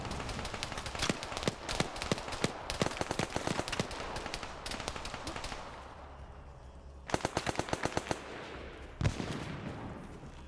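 AK rifle fire in a multiplayer video game rattles out in rapid bursts of sharp cracks, with a brief quiet gap around the middle and then more clustered volleys.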